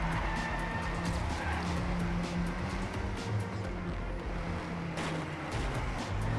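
A car drifts in the racing game Trackmania 2 Canyon, tyres skidding and squealing over a steady, loud engine roar that runs without a break.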